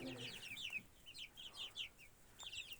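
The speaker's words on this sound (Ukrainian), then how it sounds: "Ось такі от наші курчатки вже великі, вон там чорний пітушок є." Young chickens and roosters in a farmyard cluck in quick, repeated bursts at close range, with a faint voice briefly heard at the start.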